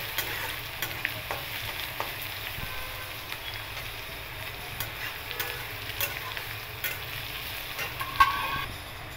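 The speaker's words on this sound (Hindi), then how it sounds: "इसमें लहसुन ऐड कर रही हूँ और इसको कुछ देर तक इसको तेल में फ्राई होने दे रही हूँ।" Garlic fries in oil for an egg curry, a soft, steady sizzle with occasional stirring clicks and small pops, continuous and fairly quiet with no talking.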